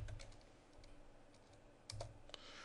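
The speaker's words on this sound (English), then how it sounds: "I can type in my split command" Quick clatter of keystrokes on a computer keyboard, a few short bursts of typing at close range with pauses between, fairly quiet.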